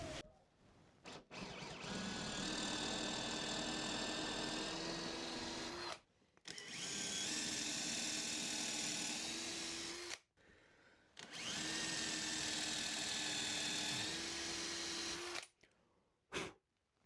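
A power drill fitted with a plug cutter whines loudly in three long bursts of cutting wooden plugs, each several seconds, separated by brief pauses.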